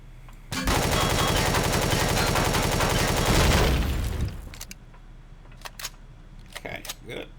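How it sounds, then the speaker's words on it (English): A turret bot inside a crashed ship in the video game Empyrion Galactic Survival fires a loud, sustained automatic burst for several seconds, then tails off into scattered clicks and thuds. "Hear one of the turret bots inside there."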